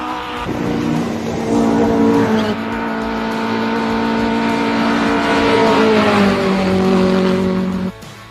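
A race car accelerates hard up the course at Simola Hillclimb, engine note climbing through gears in rising whines, loud and close before cutting off near the end.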